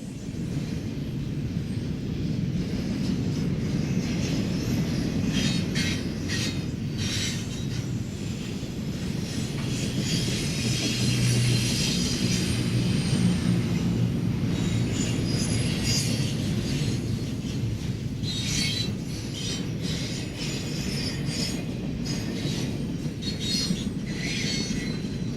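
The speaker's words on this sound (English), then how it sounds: "This train usually runs 3 days a week, although its number is changed on the other days." A Conrail intermodal container freight train rolls past at Berea in a long, steady rumble of wheels and cars, with faint squeals and clanks rising and falling as the containers go by and no voices.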